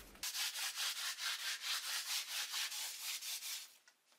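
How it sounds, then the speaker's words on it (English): A brush rubs clear wax over a painted TV tray in quick, even back-and-forth strokes, a close, rhythmic scrubbing of about fifteen passes with no talking. "I rub the clear wax all over the design and my painted tray on the sides and the table"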